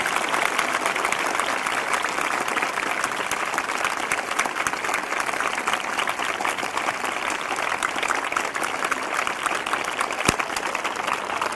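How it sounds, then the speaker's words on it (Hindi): Congregation at a Christian prayer service applauding loudly together, a steady, dense roar of clapping sustained for over ten seconds with no break. "फिर से जोरदार ताली बजाकर प्रभु को धन्यवाद दें।"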